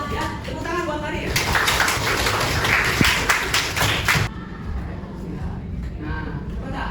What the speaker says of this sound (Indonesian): tepuk tangan buat Farid.